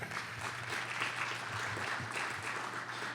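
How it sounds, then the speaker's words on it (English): Audience at a community development summit keynote applauding steadily, a dense continuous wash of clapping at moderate distance with no pauses throughout. "So a round of applause to yourselves."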